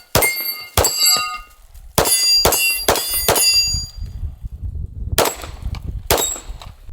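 Staccato P pistol fired at a steel Texas Star target, sharp gunshots each followed by a ringing metallic clang, with irregular spacing between shots, loud and close.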